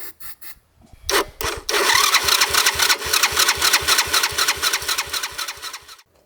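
A quad's engine cranks steadily for several seconds without catching, a loud, close, rhythmic churning of the starter with spark present, preceded by a few short bursts, with no voices.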